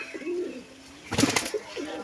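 A pigeon coos softly nearby, a low throaty call, with a short burst of fluttering or rustling in the middle.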